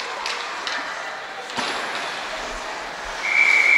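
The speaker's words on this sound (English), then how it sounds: "there's the whistle" A referee's whistle at a girls' under-16 ice hockey game, a short shrill blast arriving near the end over arena noise, with faint crowd and rink sounds before it.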